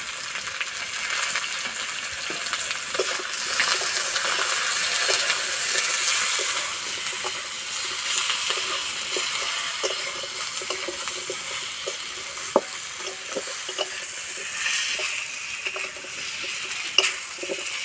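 Raw banana and eggplant frying with turmeric in a pan for a light Bengali fish curry: a steady, close sizzle with a few sharp clinks of a utensil against the pan, and no voices.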